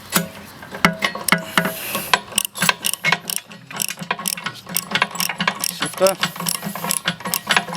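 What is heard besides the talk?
ratchet tightening nuts on bolts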